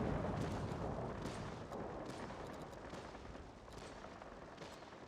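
Bombs dropping and exploding in an aerial combat video game, heard as a continuous low, rumbling barrage of blasts with sharper crackling bursts scattered throughout, loud and dense with no talking.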